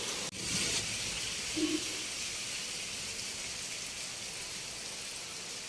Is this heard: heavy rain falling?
yes